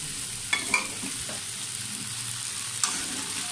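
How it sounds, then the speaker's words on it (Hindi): Boiled macaroni is stirred into a sizzling chicken mixture in a frying pan, with steady frying hiss throughout and a few clear scraping stir knocks near the start and once more later. "अब हम इसमें मैक्रोनियाँ डाल देते हैं जो हमने बॉयल की हुई। इनको अच्छी तरह से हम मिक्स करेंगे मिक्सचर को मैक्रोनियों के साथ"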